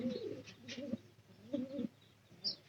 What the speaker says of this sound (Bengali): এই যে এই কবুতরের জোড়া